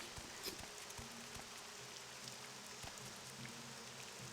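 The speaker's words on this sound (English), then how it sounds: "No, it's still raining and, you know, unpleasant as heck." Rain falling in the video game Morrowind, a faint, steady hiss of drops with occasional soft ticks and low tones underneath, quiet and continuous with no speech.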